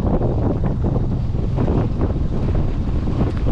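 Strong wind roars steadily across the microphone beside fast-flowing water during salmon fishing, with waves beneath the loud, unbroken buffeting.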